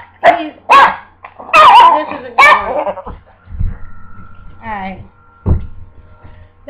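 An 18-year-old dog barks loudly and close by, giving several sharp barks in quick succession. Quieter yips and rumbles follow against a low background hum.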